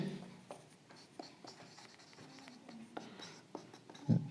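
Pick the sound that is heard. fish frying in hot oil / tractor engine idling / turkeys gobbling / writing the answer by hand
writing the answer by hand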